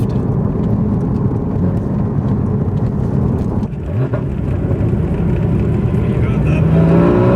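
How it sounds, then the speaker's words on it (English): Porsche GT4 engine heard from inside the car, a steady loud drone with a brief blip and dip of revs mid-way as it downshifts, then rising again, no talk over it. "downshift."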